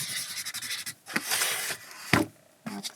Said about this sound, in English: rub those off, take labels off